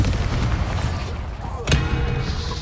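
The Bombarda explosion spell cast in Hogwarts Legacy, a booming blast mixed into dense game sound with a sharp burst near the end, while a voice speaks over it.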